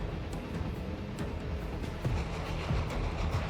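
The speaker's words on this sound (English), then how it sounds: "The sound of the engine grows louder and louder." A snow train rumbles steadily nearby, a dense low churning with faint rhythmic clacks, growing slightly louder toward the end.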